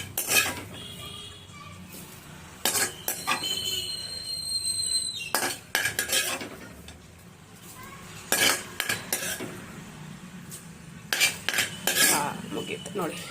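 A spoon scrapes and clinks against a metal pan in bursts of brisk strokes with short pauses, mixing dry-roasted drumstick-leaf chutney powder ingredients together, close and fairly loud.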